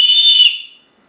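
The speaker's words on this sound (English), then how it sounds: "there's a keyless whistle, and they claim that it blows to 100 decibels" A keyless plastic whistle from a SOL Origin survival kit gives one loud, shrill blast of about half a second that fades quickly into silence, close and alone.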